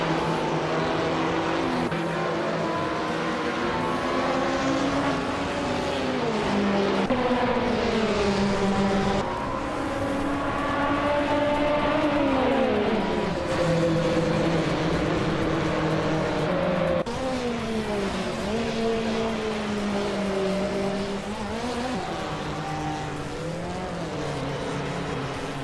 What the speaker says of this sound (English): Ablaze is driving a 2016 Subaru Impreza WR XSTI.